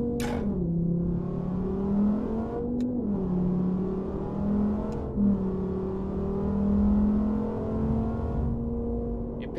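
A Dodge Challenger Hellcat SRT in American Truck Simulator accelerates with a steady, loud engine drone that climbs and dips in pitch as it gains speed, heard alone without talk.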